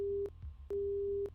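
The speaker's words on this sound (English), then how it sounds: "The phone is repeating a boring beeping sound." A phone busy signal from the Fate/Stay Night game repeats as a steady electronic tone in evenly spaced bursts, two clear beeps separated by a short gap, alone and close.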